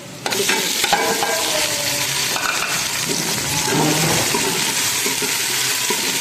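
Tomatoes and green chillies fry with browned onions in a small kadai, giving a loud, steady sizzle with scraping stirs and occasional clinks throughout, close up and without talk.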